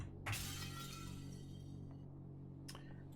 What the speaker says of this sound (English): Is that really glass breaking or is that hallucination glass breaking?